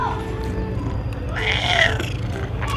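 A pet cat gives a long, drawn-out meow in the middle of the clip, close and fairly loud, over steady low background noise in a provincial home kitchen.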